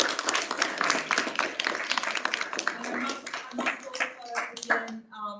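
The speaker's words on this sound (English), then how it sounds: "Round of applause for Sally." Crowd at an education academy awards and knowledge-sharing event claps for the keynote speaker, a brisk burst of many hands that thins out over a few seconds as voices start to come through at the close.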